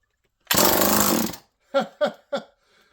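A loud burst of Homelite chainsaw engine noise lasting about a second, then three short sputtering coughs as the small motor fails to keep running.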